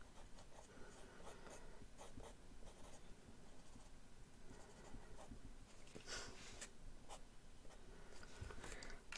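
A pen sketches on paper close up, making faint, continuous scratchy strokes with short bursts and pauses as lines and shadows are mapped out, quiet and without speech.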